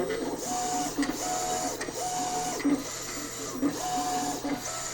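A Roland ColorCAMM Pro PC-60 vinyl plotter whirs and clicks in quick repeating cycles while cutting stickers, with short motor whines and knocks recurring about every second, steady and close.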